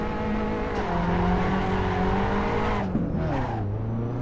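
A race car in Assetto Corsa revs hard at a drag race start, the engine note rising steadily for several seconds before dropping and bogging down, loud and close.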